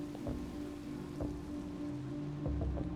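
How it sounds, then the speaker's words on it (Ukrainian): Steady video game rain patters continuously, with a few louder drops and soft thuds breaking through the even wash of sound. "Хіба що дощ тільки почався."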